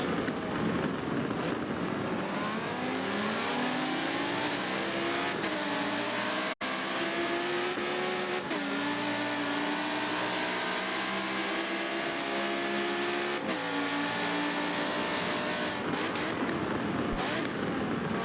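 Race cars in a racing video game howl at full throttle through steady engine drone and rising, falling gear-change tones on a Homestead-Miami road course, loud and continuous with brief shifts.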